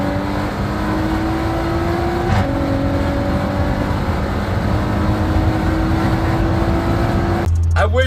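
A 750hp Audi SUV accelerating hard from 60 to 130 mph, its engine droning loud and steady with rising pitch, a gear shift midway, then a burst of wind buffeting at the end.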